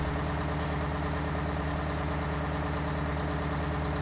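A tractor engine in Farming Simulator 19 holds a steady, loud diesel idle, a continuous low rumble with an even throb and no change in pitch.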